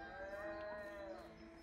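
A cow in the video game A Way Out lets out one long, drawn-out moo that holds steady for nearly two seconds, clear and fairly close with no talking over it.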